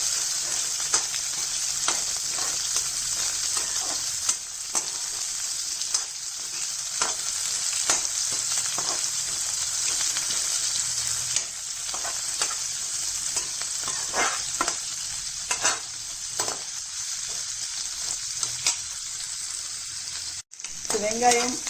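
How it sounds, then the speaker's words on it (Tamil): Onion, mustard seeds, chana and urad dal, green chili and curry leaves sauté in oil in a pan, a steady close sizzle with occasional stirring scrapes throughout. "வெங்காயம், கடுகு, கடலைப்பருப்பு, உளுந்து, பச்சை மிளகாய், கறிவேப்பிலை நல்லா வதங்கட்டும்."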